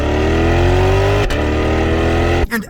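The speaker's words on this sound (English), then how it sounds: "the active exhaust opens those valves and makes this car sound great" A C8 Corvette engine revs hard with its active exhaust valves open, a loud, close, sustained rising roar that cuts off abruptly, followed by a brief burst of engine sound.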